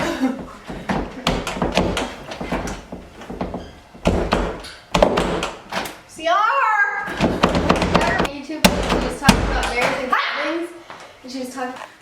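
Several heavy thuds and bangs against a door as someone struggles to force it open, mixed with talking and grunts.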